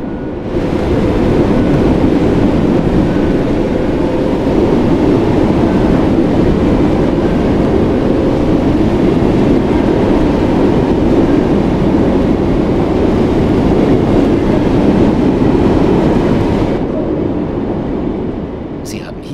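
A two-car Class 484 electric train runs in Train Sim World 2 on the Isle of Wight line, a loud, steady rolling rumble and hum that continues for the whole stretch before cutting off near the end.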